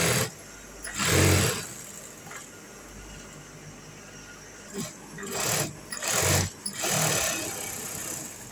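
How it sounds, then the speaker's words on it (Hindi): A sewing machine stitches a boutique garment in short bursts, its motor whirring up several times between quieter pauses, close by and without speech. "ये मैं सिलाई लगा रहा हूँ इस तरीके से।"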